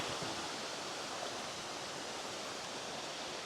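Tianna Falls pours in a steady, dense roar of falling water, a loud broadband wash that stays constant and unbroken throughout with no voices.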